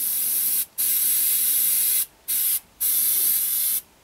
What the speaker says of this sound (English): Sorry if that's a bit noisy, it's just the compressor kicking in.